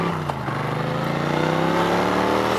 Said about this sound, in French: sur les vlogs, vous aurez souvent cette moto là